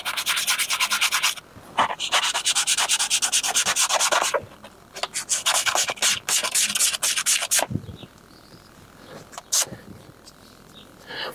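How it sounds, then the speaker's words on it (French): A scratched Tesla Model 3 wheel rim being sanded by hand: rapid, raspy back-and-forth rubbing strokes in several loud close bursts, pausing in between, with quieter scraping near the end. "On va venir poncer un tout petit peu ici."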